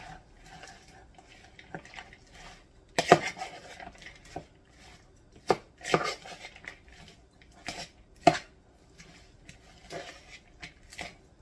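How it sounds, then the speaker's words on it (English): Spoon clinks and scrapes against a bowl while a mixture is stirred together for catfish tacos, a few sharp knocks standing out over quieter, intermittent scraping, close by with no talking. "Let's get that stirred together."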